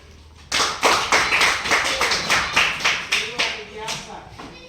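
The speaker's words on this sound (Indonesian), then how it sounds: "Mari tepuk tangan." A school audience during a teacher-training session in Lanny Jaya claps in a steady unison rhythm, about a dozen crisp, loud, evenly spaced beats that start abruptly and taper off slightly toward the end.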